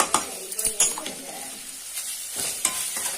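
Ground green chilli paste sizzles in a pan over low heat, with a spoon clinking and stirring against the metal in sharp, close strokes over a continuous frying hiss.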